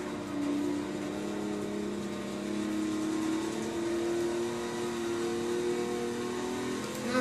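Simulated race car engine in Forza Motorsport 6 drones steadily at high revs with small pitch shifts, continuous and moderately quiet.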